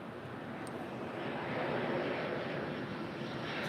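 A Southwest Airlines airliner arriving from Sacramento lands at LAX, its jet engines making a steady broad roar that swells slightly as it passes, heard at a distance with no talk.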